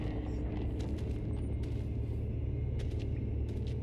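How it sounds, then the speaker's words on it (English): Thunder rumbling in the Outlast 2 video game, set in a mine, a steady deep low rumble rolling continuously with faint higher crackles above it, no voices. "Oh, go away, Thunder. No one likes you."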